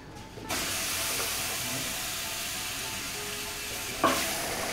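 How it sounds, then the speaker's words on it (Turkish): Meat sizzles in a pot with no oil or water as a steady, moderate hiss throughout, with a brief metallic knock near the end. "etlerin hepsini tabanımıza, tenceremizin tabanına güzelce diziyoruz"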